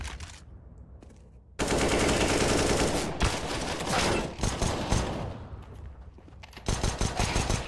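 Rapid automatic gunfire in CS:GO, a loud sustained burst of rifle shots with a few pauses and a second flurry near the end, close and dense.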